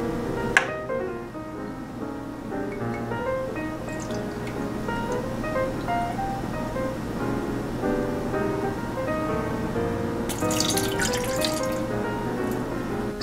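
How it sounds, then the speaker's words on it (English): White wine pours from a bottle into a fondue pot on a stove, a soft steady trickle with a brief louder splashing burst near the end, under quiet background music. "we're taking our wine, and we're gonna put it in the fondue pot on the stove"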